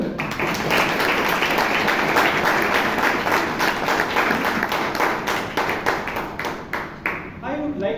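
Sustained applause from an audience at a Toastmasters meeting in Bangalore, dense clapping that fills the room for several seconds before thinning into a few scattered claps at the end.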